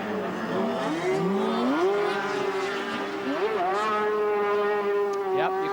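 A racing sidecar outfit at Mallory Park in a 1990 Shell Oils Supercup race revs hard at around 11,000–12,000 rpm in bottom gear, wheelspinning out of a right-hander. Its loud, continuous high-pitched engine note climbs in steps, then holds at a sustained scream.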